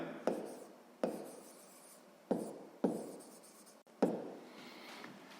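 A pen writes on paper during a sixth-grade maths exercise, in quick scratchy strokes with several sharp taps as the pen lands, close and fairly quiet.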